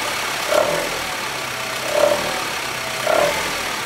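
Car engine running at high revs with an uneven, misfiring note: a steady broadband drone interrupted by three evenly spaced stumbling surges, about a second and a half apart, heard alone without talk.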